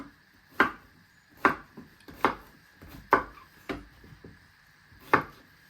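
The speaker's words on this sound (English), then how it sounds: "you just want to chop it into, not small pieces, but finger-sized pieces" A knife chops a courgette into finger-sized pieces on a board, giving about seven distinct, evenly spaced thuds that are close and crisp, with no talk.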